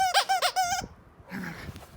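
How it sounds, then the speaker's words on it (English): A squeaky dog toy lets out three quick high-pitched squeaks in a row, then goes quiet before a fainter, muffled squeak follows. "Make it squeak."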